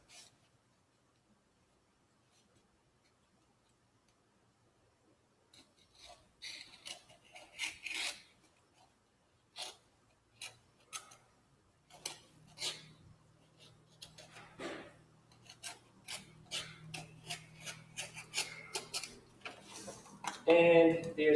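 An X-Acto knife slices through paper in a run of short, dry scraping strokes that start after a quiet opening and grow denser and louder, close to the ear.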